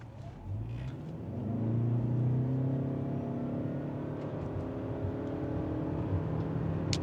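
A 2025 Toyota Camry LE sedan accelerating hard from a stop to 60 mph, heard from inside the cabin: the engine drone rises in pitch with rising and shifting tones, steady and fairly subdued, with no talking.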